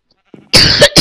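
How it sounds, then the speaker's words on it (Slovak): A person coughs loudly and close up, a small throat sound followed by two harsh, rasping coughs in quick succession. "idem kašľať do videa, ale dúfam, že vám to nebude vadiť"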